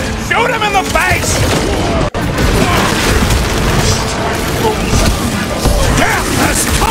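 Gunfire and booming blasts ring out in a hectic Marvel's Guardians of the Galaxy fight, with dense continuous clatter and bursts that fade only in a brief dropout near the two-second mark.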